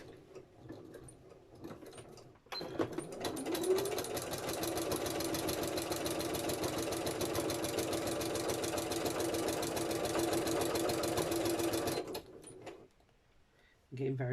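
A sewing machine runs in one steady, continuous mechanical whir for about ten seconds, close and fairly loud, starting and stopping abruptly, with brief moments of quiet room sound before and after.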